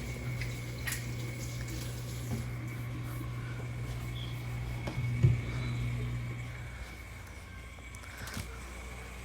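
Dishes being washed in a kitchen sink, with running water from the tap and a few faint clinks and splashes, steady and fairly quiet throughout and heard alone without talk.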